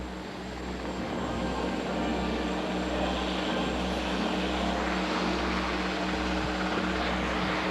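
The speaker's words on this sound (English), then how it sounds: "when that last helicopter passed over the Nickerson Field" A helicopter roars steadily overhead above Nickerson Field in Boston, its rotor thump and engine drone loud and continuous with no pause.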